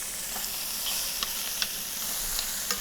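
Short rib browns in hot oil in a pan, giving a steady close sizzle with a few faint clicks from stirring and no voices.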